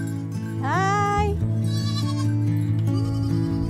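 Goats gathered in a corral bleating, one loud, wavering cry rising above a crowded, continuous chorus of other bleats nearby.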